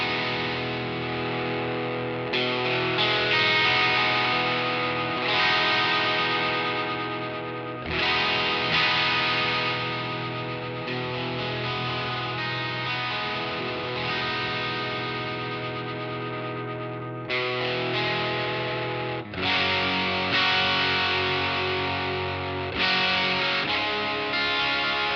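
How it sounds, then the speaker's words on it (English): A heavily distorted electric guitar plays sustained chords and riffs while the tone shifts gradually, its brightness swelling and thinning as the EQ is swept. "I'm going to dial in a nice distortion tone using the pedal, and then I'm going to sweep through the EQ"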